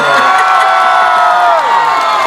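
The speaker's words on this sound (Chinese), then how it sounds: "尖叫声来一点好不好？" A crowd at an outdoor concert in a stadium in Qishan, Kaohsiung, screams and cheers loudly and continuously, a dense wall of shrill voices with whoops rising above it.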